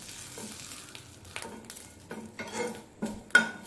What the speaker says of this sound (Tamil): லோ ஃப்ளேமில் வச்சு வதக்கிக்கோங்க.